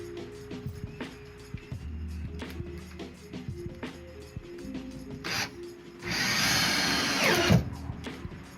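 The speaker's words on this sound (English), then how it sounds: "And then screw that in" A power drill drives screws into a vocal booth panel during soundproofing work, with short whirring bursts and clicks followed by a longer, louder run near the end, all close by.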